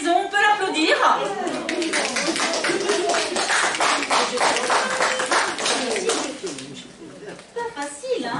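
An audience claps for a child at a Christmas party, with dense, steady applause lasting several seconds before thinning into scattered claps, under talk in French.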